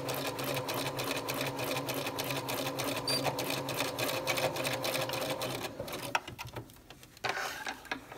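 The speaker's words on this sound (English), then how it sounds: "I am going to sew those shoulders together, back tacking at the front" A sewing machine runs steadily as it stitches the shoulder seams of a garment bodice, its rapid needle rhythm loud and close before it slows and stops near the end.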